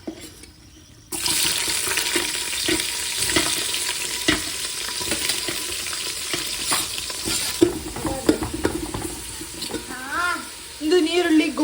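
Onions sizzle and fry in a pan for biryani after cinnamon and cloves go in, a steady bright hiss with stirring scrapes, occasional clinks and a brief water sound near the end.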